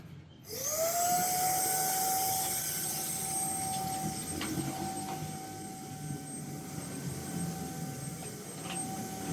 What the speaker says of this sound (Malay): memandangkan ini adalah handheld punya vacuum, cordless punya vacuum